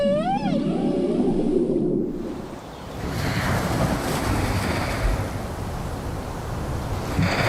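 Male humpback-style whale song off Baja, with a rising, wavering tonal call sliding upward in the first two seconds, then giving way to a broad, steady underwater rumble and wash of ocean noise.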